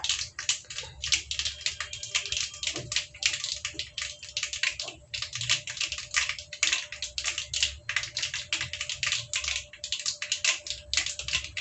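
Mustard seeds splutter in hot oil in a pan, a dense run of sharp, crackly pops and ticks that keeps going for several seconds, close and fairly quiet with no voices.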